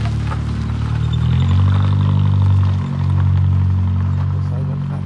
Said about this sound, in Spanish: Pues ahí va el carro.